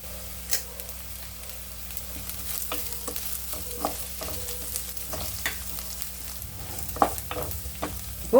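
Onions sizzle quietly in a pan while a utensil scrapes and stirs them now and then, with faint clicks and knocks.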